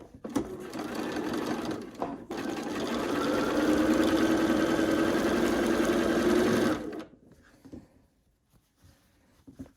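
A sewing machine stitches quilt pieces for an Ohio Star quilt in a rapid, continuous whirring run of several seconds, preceded by brief starts and followed by quiet handling noises.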